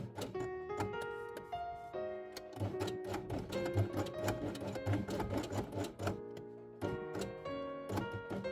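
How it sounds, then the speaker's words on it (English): A sewing machine stitches felt leaves with green thread in rapid, repeated bursts of mechanical clatter, with short pauses between runs, close and clear. "And sew the leaves twice along these lines using green thread."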